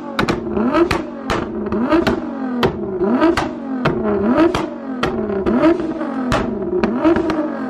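Nissan GT-R R35 with a 650R tune revving hard through its exhaust, rhythmic bursts of rising engine note punctuated by sharp pops and bangs on each lift-off, loud and close with no talking.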